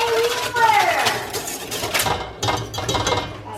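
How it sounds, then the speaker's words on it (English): Whisking ingredients together in a mixing bowl while making Amish white bread, producing quick, busy clinking and scraping of the whisk against the bowl throughout, fairly close and steady. "you whisk that in"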